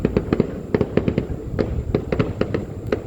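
Fourth of July fireworks crackle and pop in rapid irregular bursts, many sharp reports spread across the clip at moderate distance.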